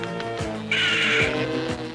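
A harsh, raspy bird squawk cuts in briefly over a busy background with low, droning tones.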